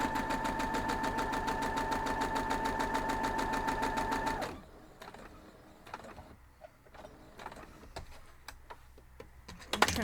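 A sewing machine stitches fabric in a fast, even run of mechanical clicks for about four and a half seconds, then stops, leaving quiet handling noises and light taps.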